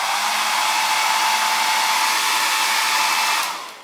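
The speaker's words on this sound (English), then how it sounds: "I have a cheap hair dryer here in my studio" A cheap hair dryer runs steadily in an art studio, drying acrylic paint with a loud, even, close whooshing blow that holds constant before winding down at the end.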